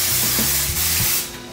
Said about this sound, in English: Now I'll spray it with a little bit of cooking spray.